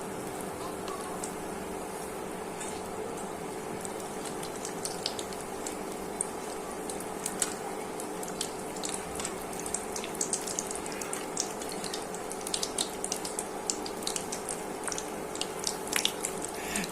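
Bengali potato chops fry in hot oil for an iftar snack, giving a soft, continuous bubbling with scattered crackles and pops and a faint steady hum underneath, and no one talking.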